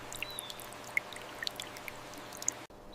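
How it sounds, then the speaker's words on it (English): Irrigation water dripping onto newly planted mango trees on a desert farm, a soft, steady trickle with scattered small bright drips spread across the stretch before it cuts off near the end. "The first drops of water nourish the newly planted trees."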